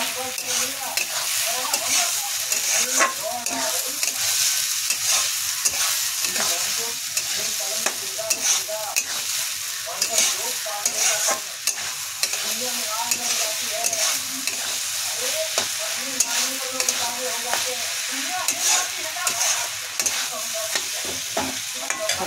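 Catla fish head for muri ghonto lightly fried in a pan, a dense continuous sizzle broken by constant quick scraping stirs throughout, close and steady, with no talking.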